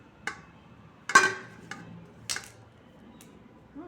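Egg biryani is served onto a plate, with a few sparse, close clinks of a serving spoon against dishware spread over a few seconds in a quiet room.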